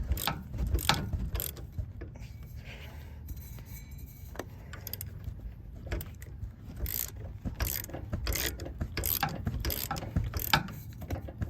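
A hand ratchet clicks in quick repeated bursts while loosening a 21 mm nut on the front shock of a 2024 Ford F-250 during a Fox 2.0 install, with metallic clanks and tool handling between strokes.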